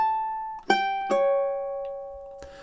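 A ukulele plays a short phrase of a TV theme: a held note, then two sharp plucked notes in quick succession, the last one ringing out and fading, close and clear with no voice.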